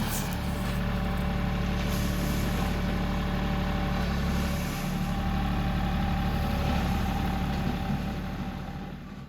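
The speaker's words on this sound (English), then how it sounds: "it was time to learn how to drive a tractor" A tractor engine runs at a steady, loud, rumbling idle throughout, close by, with no voices.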